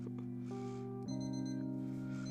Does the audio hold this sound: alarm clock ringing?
yes